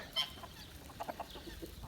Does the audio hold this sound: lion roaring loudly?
no